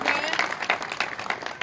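Audience applause at a stage gathering in Lahore, a short burst of dense clapping heard fairly loud with voices mixed in.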